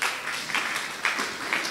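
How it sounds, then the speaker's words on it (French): Brief applause from a church congregation during a service, a handful of distinct clap bursts rising and falling over a thin, uneven background of hands. "est-ce que vous pouvez applaudir pour vous-même là où vous êtes?"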